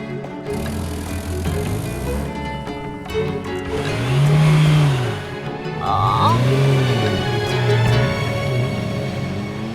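A car turning around, its engine rising and falling through a couple of revving sweeps with a short squeal, fairly loud over low background music.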